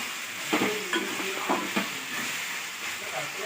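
Eggs frying in a pan for egg curry, a soft continuous sizzle broken by a few clinking stirs of a utensil against the pan, close by, with no voices.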